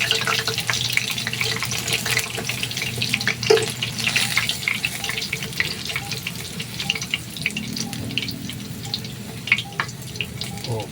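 Chicken legs and pork liver fry steadily in a pan at lunch, a continuous close sizzle and crackle with occasional pops and spits, no voices over it.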